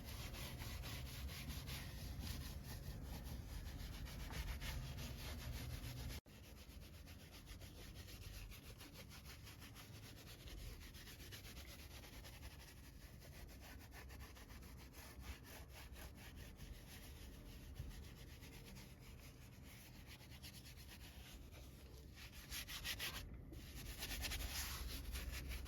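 Leather car seat scrubbed with a brush after being sprayed with cleaner, a steady close rasping rub that runs continuously with an even rhythm and no voices.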